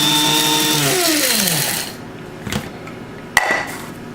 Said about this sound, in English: just take them, set them in the coffee grinder